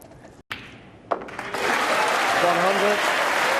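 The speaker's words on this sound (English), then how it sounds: "the crowd do love a century" A snooker crowd bursts into applause for a century break at the 2012 UK Masters, Judd Trump against Stuart Bingham. The clapping swells after a quiet moment and carries on steadily under commentators' voices.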